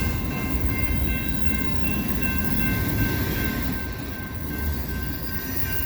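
CSX freight train cars roll slowly past a siding, a steady loud rumble of wheels on rails with faint squealing tones running throughout.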